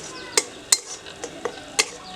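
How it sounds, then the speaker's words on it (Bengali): A utensil stirs onions sautéing in a pan for Bengali-style dodh potol, giving a handful of sharp scraping taps over a faint sizzle, close and quiet. "তো পেঁয়াজটা আমাদের আরেকটু কষিয়ে নিতে হবে।"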